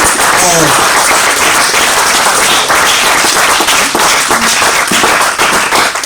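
A church congregation claps and cheers in loud, dense applause that holds steady throughout, with raised voices mixed into the clapping.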